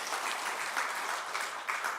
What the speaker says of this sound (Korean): 우리의 사랑을 받으신 하나님께 감사의 박수 올려드립시다